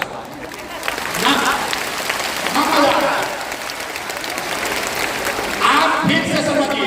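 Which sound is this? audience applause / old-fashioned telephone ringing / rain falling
audience applause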